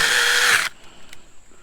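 A Sainlogic 21V mini chainsaw cutting brush whines loudly for about half a second, then cuts off abruptly, leaving quiet outdoor background with a couple of faint clicks.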